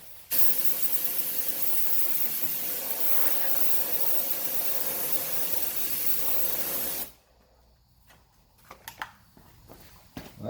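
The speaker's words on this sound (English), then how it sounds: "I actually don't normally spray this, or don't like to spray this with my primer gun because it's so thin and likes to run." A primer spray gun sprays thin primer on a 2016 RAM 1500 during scratch repair, giving a loud, steady close hiss for about seven seconds before it cuts off, followed by faint handling noises.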